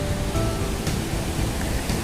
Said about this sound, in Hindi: ये पानी की आवाज़ आती रहती है।